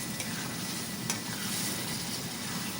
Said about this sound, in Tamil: சிக்கன் இந்த மசாலாவிலேயே நல்லா வேக வைக்கணும்